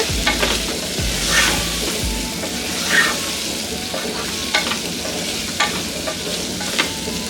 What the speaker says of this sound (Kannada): ಪನ್ನೀರ್ನ ಹಾಕ್ಕೊಂಡು ಲೋ ಫ್ಲೇಮಲ್ಲೇ ಇದನ್ನು ಒಂದು 2 ನಿಮಿಷದಷ್ಟು ಫ್ರೈ ಮಾಡ್ಕೊಳ್ಳೋಣ